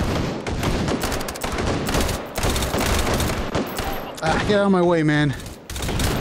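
Rapid gunfire bursts from the VR shooter Hot Dogs, Horseshoes & Hand Grenades crackle loudly and repeatedly, close by, while someone speaks over the shots.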